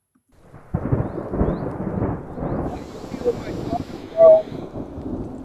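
A loud thunder sound effect plays on a wrestling talk show, a steady rumbling roll lasting several seconds with a sharper burst near the end, while voices talk over it.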